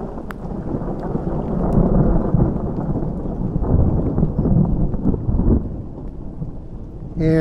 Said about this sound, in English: I wanted to wait for a second to let you hear some of that thunder